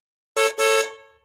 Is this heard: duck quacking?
no